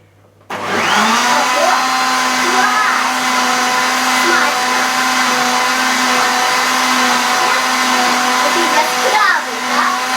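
A blender making milkshakes starts abruptly and runs loud and steady for about ten seconds, its whirring motor pitch wavering slightly as it mixes.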